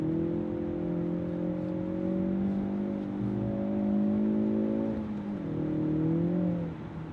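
A Ford Focus RS engine hums at a steady high pitch, rising and dipping slightly as it revs while drifting, sustained and moderately distant.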